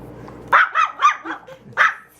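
A dog barks loudly and close, letting out four or five quick, sharp barks in an uneven burst with no talking over them.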